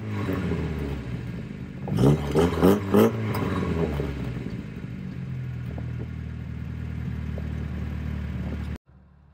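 Inside a Lada Riva (VAZ 2105), the engine runs with a steady low rumble and a short burst of revving and clatter early on, then settles to an even drone before cutting off abruptly.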